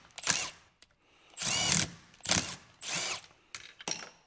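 A hand ratchet threads a bolt into a Cadillac 500 power steering bracket, five close bursts of rapid clicking separated by short pauses, no talking.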